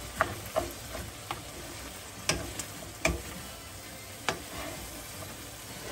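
A spoon scrapes and taps against a pot while rice with sardines in tomato sauce is stirred, the strokes sporadic and fairly faint over a low kitchen hiss.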